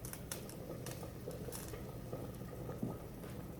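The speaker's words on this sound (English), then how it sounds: "we're gonna let it simmer" A pot of collard greens with smoked turkey wings simmering low and slow, a faint steady bubbling patter with soft irregular pops, quiet and close with no talking.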